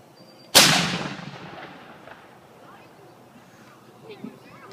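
A reenactment cannon fires once at an 1812 museum, a single loud, sharp boom with a long rolling decay that fades over several seconds, with faint activity afterward.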